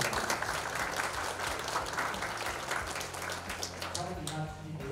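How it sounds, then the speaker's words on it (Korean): An audience at a Go league event in Incheon claps in thanks, a broad, steady wash of applause heard at moderate distance with some murmuring beneath it. "감사의 박수도 한번 쳐주셨습니다"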